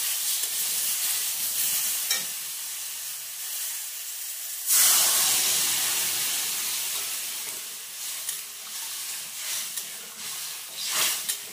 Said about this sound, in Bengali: এই দেখো তা এখন আমি জল দিয়ে দেবো এটার মধ্যে